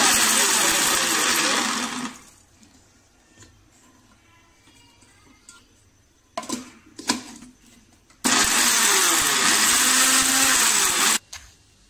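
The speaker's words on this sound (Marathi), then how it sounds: "थांबून थांबून मिक्सर" Mixer grinder grinding cardamom and nutmeg into a coarse masala, run in short pulses: a loud, close, harsh motor whir for about two seconds, a quiet gap with light clicks, then another burst of about three seconds.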